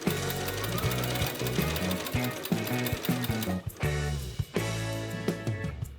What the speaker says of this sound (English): sewing it onto the facing with the top stitch